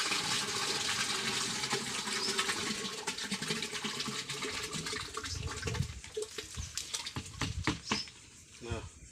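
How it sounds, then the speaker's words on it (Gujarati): Cow dung is poured and mixed into a tub holding 180 litres of water to make jivamrut, giving continuous sloshing and splashing water sounds, close and fairly loud, ending in a few irregular splashes. "આ પહેલાં ગોબર આ ટીપણામાં નાખે ને ટીપણાની અંદર 180 લીટર પાણી ભરેલું છે."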